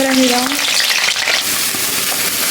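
Onions and green chilies frying in a pan with a loud, steady sizzle throughout, a brief tonal whine near the start.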